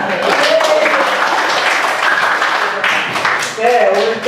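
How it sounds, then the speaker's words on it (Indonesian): A group claps together in a dense burst of applause, close and loud, with voices mixed in throughout. "Tepuk tangan."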